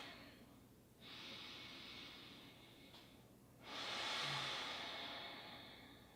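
Slow, soft breaths during a yoga hip stretch for low back pain, a long exhale followed by a louder, deeper breath, quiet and close with no talking.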